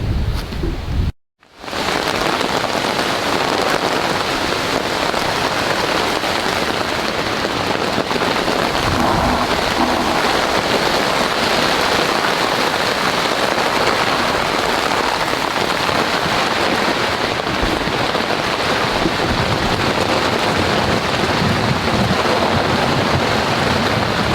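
Heavy storm rain pours steadily onto a campsite in Uwharrie National Forest, a dense, continuous hiss after a brief silence at the start, with faint low rumbles beneath it.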